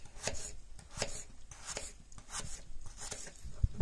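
A knife chops potatoes steadily on a cutting board, about two crisp thuds per second, close and fairly quiet.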